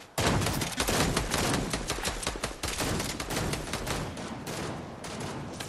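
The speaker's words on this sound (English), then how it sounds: "They're shooting you." Dense, continuous gunfire from a Fortnite match, rapid shots piling into a loud, sustained barrage with no talking over it.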